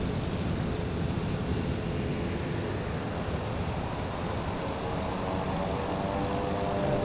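A TBM 930 turboprop rolls out after landing at Redwood Coast Arcata Airport with its thrust reversers engaging, giving a steady, loud, broadband roar of engine and rushing air that holds at constant strength throughout, with no talk.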